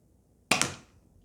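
A Nerf toy gun fires a dart with one sharp snapping pop and a brief quick rattle that fades within half a second, close and distinct against near silence.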